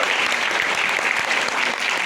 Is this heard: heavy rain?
no